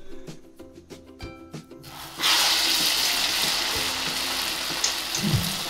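Urad dal vada batter hits hot oil and the frying swells into a loud, steady broadband sizzle that lasts to the end, after a few sharp handling knocks at the start.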